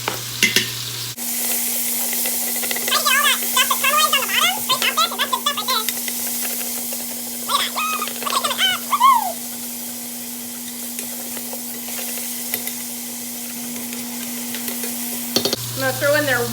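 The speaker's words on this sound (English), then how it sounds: "I'm going to throw in some garlic. I'm going to go ahead and throw in the mushrooms." Garlic and mushrooms frying in a pan for a keto meal prep, a steady loud sizzle with stirring scrapes and clinks throughout, ending with a brief bump near the close.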